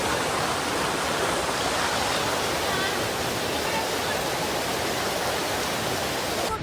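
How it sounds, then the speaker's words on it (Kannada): Mallalli Falls in Coorg roars as a dense, steady wash of falling water, loud and close, filling the whole stretch without a break or any voices. "ಮಳ್ಳಳ್ಳಿ ಫಾಲ್ಸ್ ಬಂದ್ವಿ ಇವಾಗ ನಾವು"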